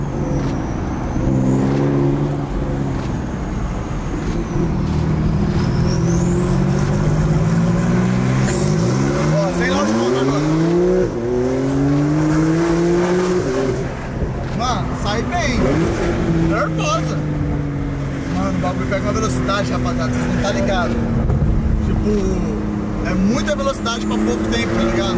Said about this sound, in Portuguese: eu vou andar com todas as Porsche hoje